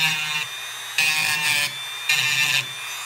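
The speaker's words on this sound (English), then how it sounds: "I'm going to tune it up with some sandpaper. Let's try to get the burrs off." Sandpaper rubbing burrs off a freshly shaved muzzleloader stock part, three hissing scrubbing strokes in a steady back-and-forth rhythm, close and fairly loud over a low background hum.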